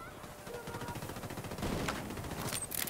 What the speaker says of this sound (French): L'Unidad échange des coups de feu avec la Santa Blanca.